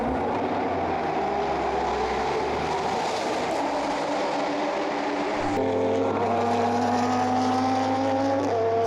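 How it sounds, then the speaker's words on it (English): A Lotus Elise race car laps through the night at the Dubai 24 Hour, its engine droning steadily and loud with rising gear pulls and a shift to a higher pitch midway, close by. "the Lotus continued to pound round and put in some very strong laps"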